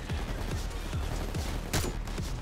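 Several gunshots fire in a rapid, uneven series amid Payday 2 game noise on the Heat Street mission, with one sharper, louder shot standing out near the end.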